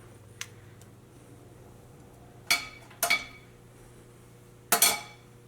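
A large spoon working urad dal batter for bonda in a bowl, heard as a few sparse clinks and knocks of metal against the vessel, close but soft over a quiet low hum, with no one speaking.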